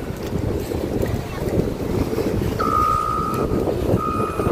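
A bulldozer's reversing beeper sounds twice over its rumbling engine and gusty typhoon wind on the Masbate coast.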